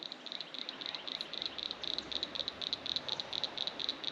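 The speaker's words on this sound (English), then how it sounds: "Listen, you can hear the frogs." A rapid, rattling chorus of frogs croaks steadily in the distance near water in a backyard, pulsing without pause and with no voices.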